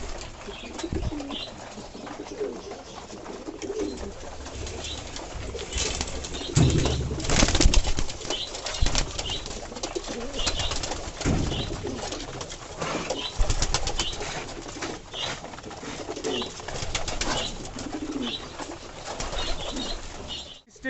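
Fantail pigeons coo steadily in a loft, many birds overlapping in a continuous murmur with occasional wing flaps and rustling.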